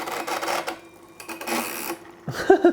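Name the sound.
mechanism of a 1959 Wurlitzer Sideman drum machine running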